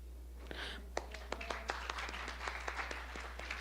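A small crowd at a music cafe gives light, scattered clapping that stays faint and brief, over a steady low hum.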